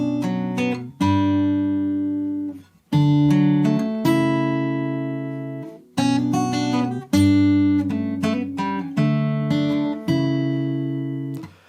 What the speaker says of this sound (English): it's a really nice bit of guitar playing